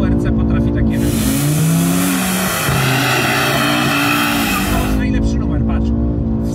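An Audi RS3 is driven hard WRC-style, its engine loud and close throughout with a broadband roar and tire squeal through a slide, while people talk over it inside the car.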